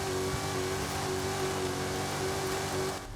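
The Bone Shaker monster truck in Forza Horizon 5 drones at steady high revs in third gear, a continuous loud engine tone with a faint whine and a brief drop right at the end, no talking.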